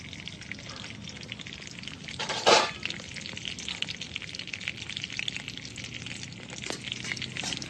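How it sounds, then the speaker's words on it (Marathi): Dried dark chillies, broken by hand, sizzle in hot oil where cumin seeds have already crackled, as tempering for a bitter gourd bhaji. A steady, moderately loud frying hiss runs throughout, with one louder burst early on and no voices. "मग जिरं तडतडलं की या मिरच्या मोडून घेतलेल्या काळ्या मिरच्या आहेत त्या टाकून घेतल्या त्याच्यात"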